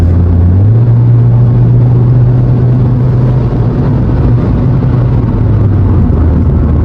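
A 2016 Kia Rio sedan pulling away from a green light, its engine droning steadily and loud from inside the cabin, the pitch climbing briefly before settling into a sustained rumble.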